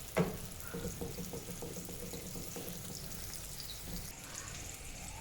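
Onion and other vegetables sautéing in a pan for a matchstick-cut vegetable chicken dish, a steady soft sizzle with faint stirring clatter, fairly close and continuous, with no talking.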